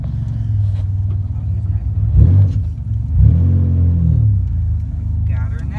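A car's engine rumbles steadily and then revs up twice as the vehicle pulls away, loud and close from inside the car, with voices talking over it.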